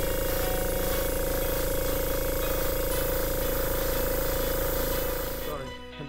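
An airbrush sprays Pledge Future clear coat onto a model, giving a loud steady hiss with a compressor's throbbing hum beneath it that runs almost the whole time before tapering off at the end.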